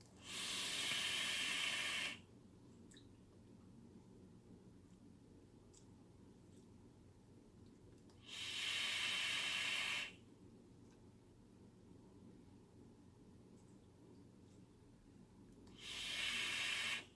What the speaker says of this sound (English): I'm go ahead and just take one or two more vapes off of this